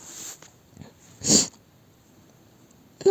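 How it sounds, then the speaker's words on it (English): A single short, explosive sneeze comes from close by in a quiet room, with soft breathing before it and another sharp burst just starting at the end. "I seem to not be able to stop sneezing"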